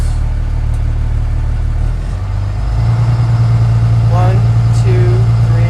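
A bus engine idles, then is revved to about 1,000 RPM with the parking brake set, its deep steady drone rising and holding loud and close while a man counts aloud over it.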